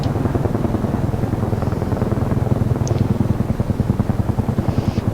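Heavy CH-47 Chinook tandem-rotor helicopter in the flight simulator DCS World, a loud, steady rhythmic rotor thumping over a constant engine drone, unbroken from start to finish.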